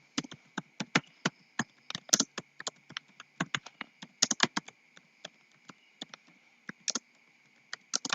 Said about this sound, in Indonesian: Kita ketikkan saja soalnya.